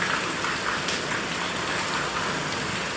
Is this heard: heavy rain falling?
yes